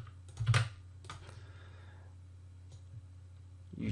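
Computer keyboard typing, a few sharp close key clicks with a louder strike near the start, over a low electrical hum.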